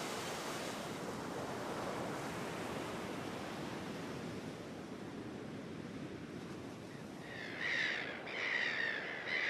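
Surf breaking on a wild stretch of coastline, a loud continuous wash of waves, with crows cawing twice near the end.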